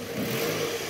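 A Toyota Harrier's 2AZ engine revs briefly with the AC on, a close rising roar lasting about a second.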